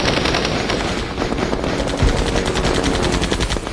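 Rapid, loud, continuous gunfire in the Men of War battle game during a tank fight, with one heavy deep boom from a tank gun cutting through midway.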